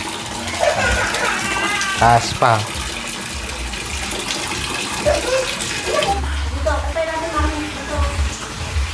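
Water is fetched and poured, sloshing and gushing in repeated splashy bursts close by while people talk over it.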